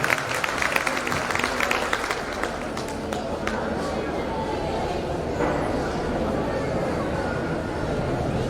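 An audience gives a loud, sustained round of applause and cheers welcoming a guest at a community welfare society event, dense clapping continuing throughout.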